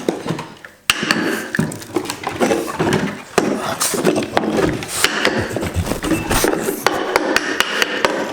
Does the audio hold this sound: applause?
no